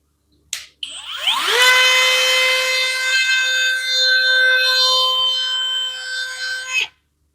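A Parkside Performance 12V cordless mini router spins up with a sharp rising whine, then holds a steady high-pitched tone for about five seconds before cutting off abruptly; no voices.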